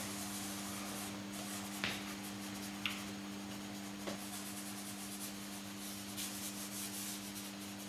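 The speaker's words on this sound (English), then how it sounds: "What I'm going to do is just rub down with my fingers in certain areas, get a darker effect." Fingers rub down on the back of a monoprint sheet in a quiet room, a soft continuous scuffing with a few light taps, heard faintly over a steady low hum.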